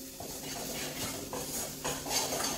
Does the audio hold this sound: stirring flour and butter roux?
yes